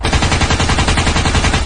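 Rapid cartoon gunfire from zombies shooting in an animated scene, a dense, loud, continuous burst of machine-gun-like rattling shots filling the whole moment with no talk.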